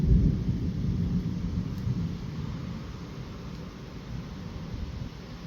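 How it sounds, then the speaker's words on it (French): Thunder from a lightning strike during a violent summer thunderstorm with strong winds in Gironde, a deep rolling rumble that starts strongest and slowly fades, heard alone without voices. "il vient encore d'y avoir un coup de foudre"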